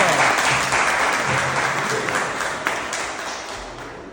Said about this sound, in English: Let's give one more round of applause for Bernice.